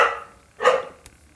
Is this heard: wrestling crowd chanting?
no